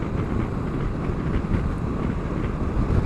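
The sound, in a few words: wind noise while riding Honda CB500X motorcycle at 60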